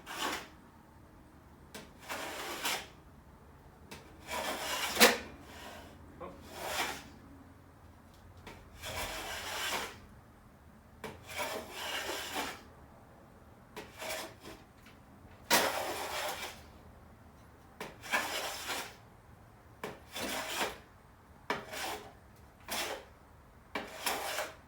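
A hand plane is pushed across wood in repeated rasping strokes, each a short hiss a second or two long, spaced irregularly and heard faint and close.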